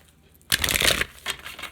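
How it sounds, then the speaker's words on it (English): A deck of cards riffles in a short papery burst close by, followed by a second briefer flutter. "I love the way this deck shuffles."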